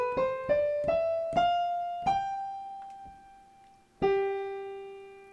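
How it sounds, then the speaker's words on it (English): A Mixolydian mode scale starting on G, played as a short run of plucked, ringing notes rising step by step, then a pause and one final struck note that sustains and decays, alone and fairly soft. "Then we have the Mixolydian Mode."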